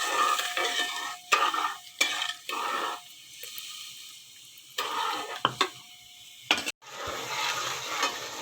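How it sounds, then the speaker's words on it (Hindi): Sugar melts in a pan and is stirred with a utensil while making colored vermicelli (seviyan). Close, intermittent scraping strokes with a soft sizzle and brief pauses between them, no voices. "चीनी तकरीबन हमारी मेल्ट हो चुकी है।"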